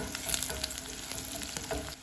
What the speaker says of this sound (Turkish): Havucu da birlikte kavurmaya devam ediyorum.